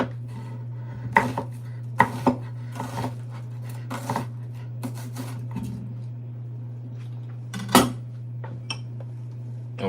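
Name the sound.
slicing an onion with a knife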